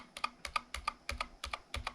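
A swapped shift key on an Anne Pro 2 keyboard is pressed again and again, giving crisp, close clacks in quick press-and-release pairs that repeat in an uneven rhythm, with no talking.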